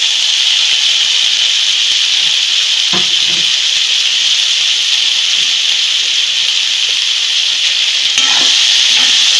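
Dried Bombay duck being stir-fried with chilli in a pan over high heat gives a loud, continuous hissing sizzle close up, with occasional soft scrapes of the spatula stirring through it.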